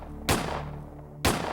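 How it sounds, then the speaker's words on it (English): Two gunshots traded in a hotel lobby during an attempted robbery, one involving a .38 revolver and a .22, sharp reports about a second apart, moderately loud with a short decay. "Less than 10 feet apart, Sechrist and the would-be robbers exchange gunfire"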